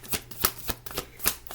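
A deck of tarot cards shuffled by hand at close range, quick riffling bursts and soft slaps in an uneven rhythm with no talk.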